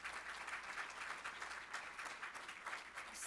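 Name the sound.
audience applause for a sponsor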